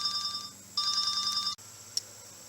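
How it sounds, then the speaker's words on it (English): A phone rings with a repeating electronic tone, two bursts of bright warbling beeps separated by a short gap, fairly close, then cut off abruptly, followed by a faint room hush and a single small click. "I guess it's appropriate for me to be interrupted by my phone for my day job"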